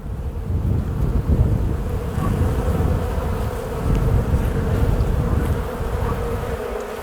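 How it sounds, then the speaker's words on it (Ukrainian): Bees buzz loudly and continuously near the microphone, a dense droning hum with some wind noise and no speech. "Бачите, так крутяться бджілки."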